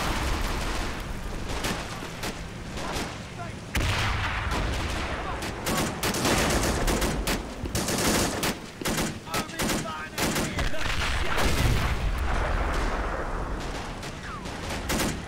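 Artillery and heavy gunfire rumble and crack in the video game Men of War: Assault Squad 2, dense overlapping blasts and bursts continuing for the whole stretch at close, loud range.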